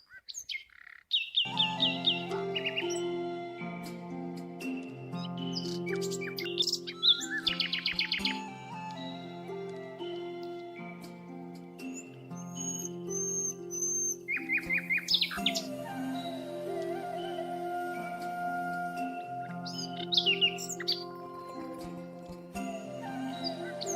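Birds chirp and tweet in scattered high bursts around the lake at Ramdara Temple, Loni Kalbhor, Pune, over a steady, humming tonal background that continues throughout.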